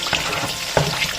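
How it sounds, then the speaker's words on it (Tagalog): Loud, steady sizzling of marinated pork frying in hot oil in a pan, with a couple of sharper pops and stirring scrapes. "Prituhin ko lang yan saglit"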